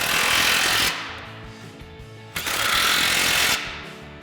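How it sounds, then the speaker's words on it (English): Impact wrench driving 18mm mounting bolts on a 2021-2023 Ford Bronco front winch bumper, two loud sustained rattling bursts separated by a quieter pause, close and alone. "we'll grab our 18mm socket on our impact,"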